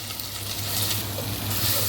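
Onions, mustard seeds, urad dal, chana dal and green chillies frying in two spoons of hot oil for a wheat rava upma, a steady close sizzle with low hum beneath, no talk.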